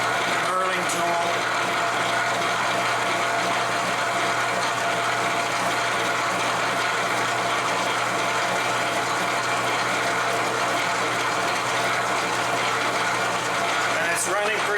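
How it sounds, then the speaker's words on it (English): A medium coarse knurling tool cuts into a workpiece on a slowly turning lathe, a continuous grinding, ratcheting rasp with a steady mechanical hum beneath, loud and close, unchanging throughout. "This is a medium coarse Knurling tool."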